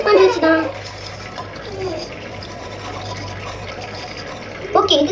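Water runs and swishes steadily while something is washed with a sponge, with a person speaking briefly at the start and again near the end.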